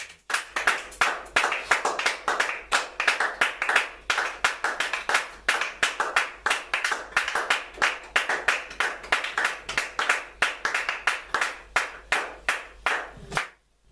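A church congregation claps together in steady rhythmic acclamation during worship, loud and sustained for the whole stretch with no talking, then stops abruptly at the end.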